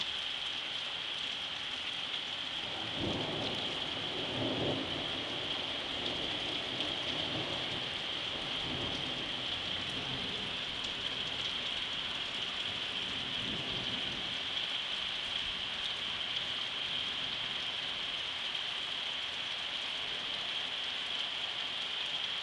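Night thunderstorm over Vittorio Veneto: continuous steady rain hiss with a constant high whine, while low, distant rumbles of thunder roll in early on and fade, sounding faint and far off.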